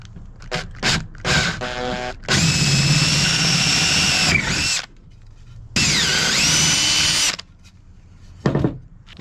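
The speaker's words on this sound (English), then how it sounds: "And then I can go ahead and drill these." A power drill bores dowel holes into 2x4 construction lumber for a bed frame, with two long, loud, steady whining runs separated by short bursts and pauses, close up with no talk.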